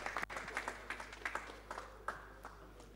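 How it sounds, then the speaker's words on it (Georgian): Light, scattered clapping from a small crowd greets fighters at an MMA press conference, a few seconds of uneven hand claps heard at a moderate distance in a quiet room. "აპლოდისმენტები მებრძოლებს."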